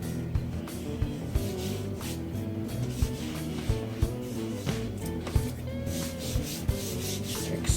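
A power sander works over a homemade wooden bass guitar body with a continuous rubbing, whirring grind, punctuated by small knocks and shifts in pitch as the tool moves across the wood.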